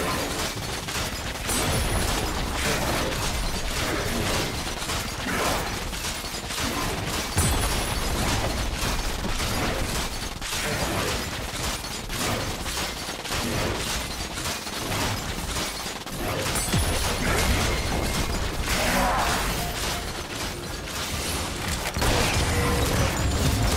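A turret is destroyed in League of Legends amid a busy match: loud, continuous game sound effects with clanking mechanical hits, creaks and bursting pops layered densely throughout.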